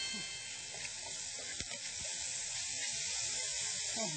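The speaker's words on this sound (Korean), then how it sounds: "이렇게 해서 살짝만 볶아주는 겁니다." Food, including soaked dried mussels, stir-frying briefly in a little oil, a continuous close hiss and sizzle with a faint spatula scrape partway through.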